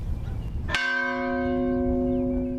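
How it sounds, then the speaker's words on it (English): A village church bell in Galicia, Spain, tolls to mark a death: one loud, clear strike rings out and its bright, sustained tone decays slowly over a low background rumble. "The church bell in the village of Oculto tolls to mark another death."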